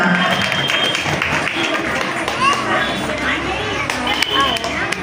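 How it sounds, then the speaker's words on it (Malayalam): Steady applause from a crowd at a school anniversary celebration for young children, sustained clapping throughout with chatter and a voice speaking over it. "എല്ലാവരും കുഞ്ഞുമക്കളെ കൈയടിച്ച് പ്രോത്സാഹിപ്പിക്കേണ്ടതാണ്"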